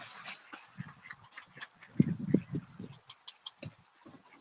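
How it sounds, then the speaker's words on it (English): Ducks quack in a loose chorus just after feeding, overlapping nasal calls rising to a louder cluster midway, heard fairly close with no talk. "So the ducks have been fed."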